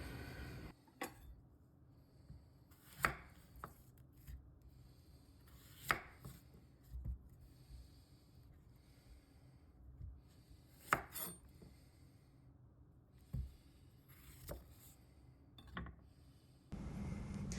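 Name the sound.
sweet potatoes being cut into cubes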